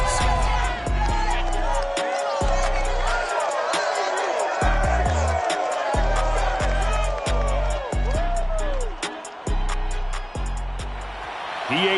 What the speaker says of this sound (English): This crowd excited to see their Jaguars as both teams emerge from their tunnels a moment ago.